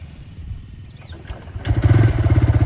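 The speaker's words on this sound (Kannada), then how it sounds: "ನೋಡಿದರೆ ಥ್ರಾಟಲ್ ಕೊಡೋತ್ತಿನ ಗಾಡಿ ಚಾಲೂ ಆಯ್ತು." A TVS Raider 125cc motorcycle starting with a twist of the throttle: quiet clicking, then the engine catches and settles into a loud, close, pulsing idle.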